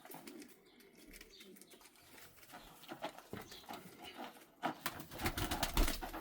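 Pigeons coo softly among rustling and shuffling noises, with low throaty calls and some flapping, close by.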